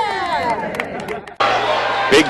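A crowd of about 2,000 high school basketball fans fills the gym in Granite City for a Class 4A sectional semifinal, a dense, continuous murmur of chatter with a sudden louder swell partway through.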